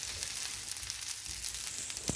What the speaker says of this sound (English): Put the squid on the sizzling plate and mix all the ingredients.